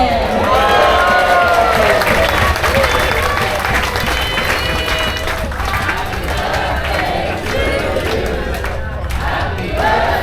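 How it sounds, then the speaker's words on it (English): A large crowd aboard the P&O Britannia cruise ship applauds and cheers for the chef on his birthday, with dense, steady clapping and whoops that hold loud throughout, overlaid with crowd voices. "Now don't hold that applause, I've been told it's his birthday today."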